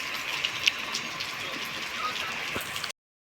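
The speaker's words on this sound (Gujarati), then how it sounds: "આ વરસાદ જુઓ તમે નેવા પડે" Steady rain patters on a surface during a monsoon downpour, water streaming from the roof eaves, with scattered drips and splashes in a continuous hiss before the sound cuts out abruptly.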